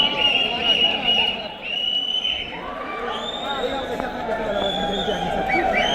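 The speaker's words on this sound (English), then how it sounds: "The crowd is going crazy." A large outdoor crowd at the Burj Khalifa after the New Year fireworks, a steady roar of cheering, whistles and chatter filling the whole stretch, with a nearby voice talking over it.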